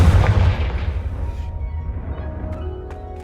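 Confringo fire spell blasting in the Hogwarts Legacy video game: a loud, booming burst with a heavy low rumble that fades into a lingering crackling tail, with faint sharp ticks near the end.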